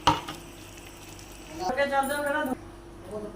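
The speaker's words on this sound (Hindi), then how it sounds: "अब हम इसमें चावल डालेंगे।" Rice is tipped into a pot of simmering kofta biryani and stirred, with scraping, gentle sizzling and utensil clinks close by while someone speaks briefly.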